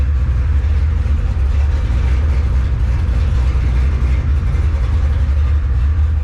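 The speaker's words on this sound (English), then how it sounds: "Definitely have an exhaust leak, so I'll fix that later." A car engine with an exhaust leak runs loud and steady with a rough, ragged rumble and a raspy, sputtering exhaust note throughout, with no voices.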